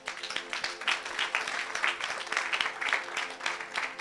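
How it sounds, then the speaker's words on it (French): A congregation applauding during a church service, steady dense clapping that rises and falls in waves without pause. "Acclamez le Seigneur."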